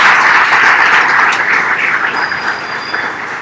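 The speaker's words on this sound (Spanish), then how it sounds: "Primero démosles un aplauso a nuestros" Audience applause at a React Week Medellín 2019 conference session, a dense, steady wash of clapping that holds loud throughout and thins slightly toward the end.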